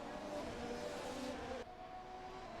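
Engine drone of Formula 1 race cars from a sim racing game at Imola, Alfa Romeo, Williams and McLaren running nose to tail, a steady close whine that holds level and dips slightly near the end.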